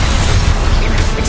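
Accio summoning spell cast in Hogwarts Legacy, a dense, steady magical whoosh with deep rumbling low end and a brief swell near the end, loud and continuous with no talk.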